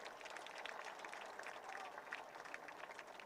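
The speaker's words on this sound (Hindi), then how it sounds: "उनके लिए भी जोरदार तालियां होनी चाहिए।" Faint, steady audience applause at a Karachi conference, an even far-off patter of many hands that holds for about three seconds, with no voices standing out.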